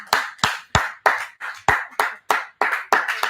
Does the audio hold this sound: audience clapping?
yes